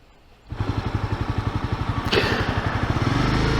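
A 2018 Honda CB300F motorcycle engine fires up and settles into a close, loud, rhythmic thumping idle, with a brief rev partway through.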